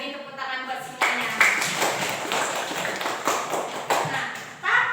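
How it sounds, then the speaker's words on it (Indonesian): Classroom students clapping in short bursts, a few uneven rounds of hand claps close by, with a voice speaking over the start. "Beri tepuk tangan buat semuanya"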